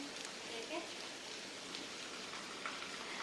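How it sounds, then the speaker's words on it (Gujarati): Heavy rain pours down steadily after arriving home, a dense, even hiss of falling water with no breaks, filling the whole stretch at moderate loudness. "ઘરે પહોંચી ગયા, વરસાદ હવે ચાલુ છે"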